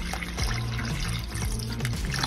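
Water poured into a container to make a brine for a pork leg, a steady splashing, gurgling stream running close and continuous for the whole stretch.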